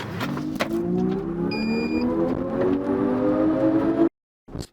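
Kia EV6 GT electric car accelerating hard in GT mode: a loud, steady rising motor whine with strong climbing tones over road and wind noise, ending abruptly with a brief gap.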